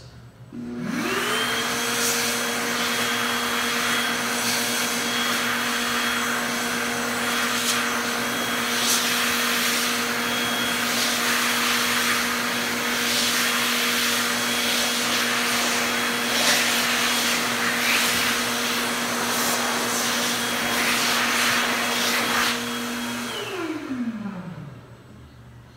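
An electric hand dryer made in 2023 runs in a public restroom with a loud, steady whining blower tone that holds for about twenty seconds, then winds down as it shuts off.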